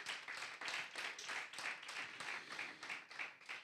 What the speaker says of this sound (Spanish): Un aplauso al Señor, claro que sí.